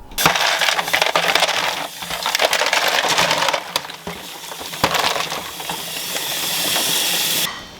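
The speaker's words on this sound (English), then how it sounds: "Okay, so we've got a nice rolling boil." Water at a rolling boil in a canning pot for peaches gives a loud, steady bubbling hiss, broken by sharp clinks and bursts of spattering up close.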